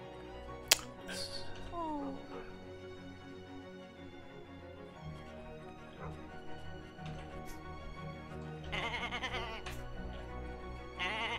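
Sheep bleat in the farming video game Summer in Mara, several short animal cries mixed with game sounds and music, while someone talks over them.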